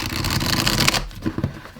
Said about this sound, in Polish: można tak tasować